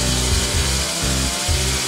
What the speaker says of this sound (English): The steel-powered KB350 core drill is the most modern solution for sewer pipe and concrete drilling for roadworks and building construction.